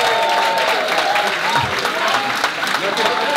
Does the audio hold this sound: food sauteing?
no